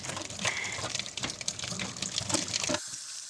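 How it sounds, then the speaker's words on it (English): Boiling water pours and splashes over plastic water bottles in a lab, a steady close trickling and gurgling that stops abruptly near the end. "So now we're going to pour this boiling water onto the water bottles and see what happens."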